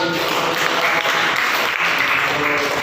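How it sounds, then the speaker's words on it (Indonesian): Steady, dense applause from a classroom of students, continuous clapping throughout with no pauses. "tepuk tangan"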